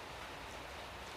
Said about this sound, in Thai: ฝนก็ตกดีดีพี่น้อง